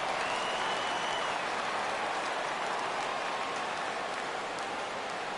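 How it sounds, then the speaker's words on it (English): A stadium crowd in a PS4 baseball game roars steadily at a 3-2 count, a dense sustained wash of cheering and clapping without a break, no commentary over it. "Crowd gets up for the 3-2."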